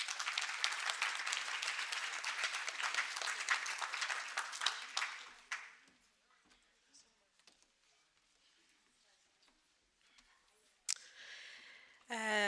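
Audience applauding a speaker at a research conference on gender-based violence in higher education, dense clapping for about five seconds that fades to a quiet room before a voice speaks.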